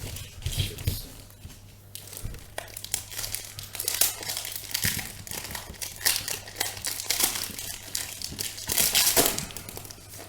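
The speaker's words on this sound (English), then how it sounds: "let's give them a shuffle, eh?" Numbered basketball trading cards are shuffled by hand, giving close, continuous crinkly rustling and slapping of card stock with uneven bursts over about ten seconds and a low hum underneath.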